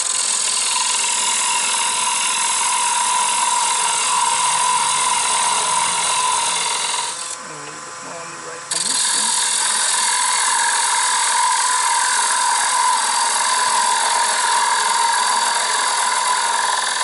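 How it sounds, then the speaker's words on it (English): A parting tool cuts into a spinning wooden toy wheel blank on a lathe, giving a loud, steady, whining grind with dense high hiss that drops briefly midway as the cut pauses, then resumes at full strength. "And then with my parting tool, I want to get a little bit more on the right."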